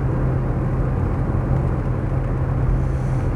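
A Mercedes 280CE automatic cruises at around 55 mph, its engine and road noise forming a steady, loud interior drone with a low hum and no speech.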